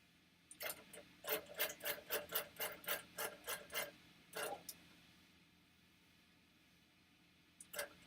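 A longarm quilting machine stitches basting in a quick run of about a dozen rhythmic rasping strokes, close and fairly quiet, then falls silent before one more brief burst.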